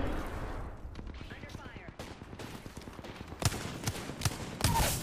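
Gunfire from the battle royale shooter Apex Legends rattles in repeated quick bursts, moderately loud over a busy game soundscape, growing denser toward the end.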